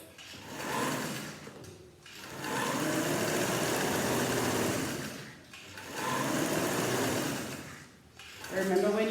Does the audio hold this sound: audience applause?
no